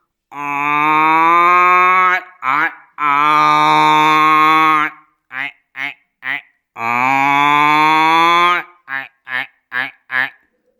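A voice imitates a buffalo's long, drawn-out moos alternating with clusters of short calf bleats, loud and close with brief pauses between.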